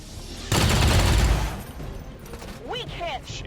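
A rapid burst of automatic gunfire from the XCOM 2 video game, loud and dense for about a second, followed by fainter game sounds and a short sweeping electronic tone.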